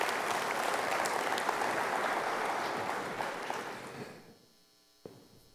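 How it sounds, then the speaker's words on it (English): An audience at a wind power industry gathering gives a round of steady applause that gradually fades out near the end, leaving a quiet room hum. "Please give yourselves another round of applause for your success and hard work in 2015."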